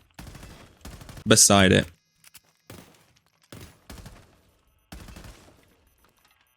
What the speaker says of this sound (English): you can actually get it down by carefully shooting the wood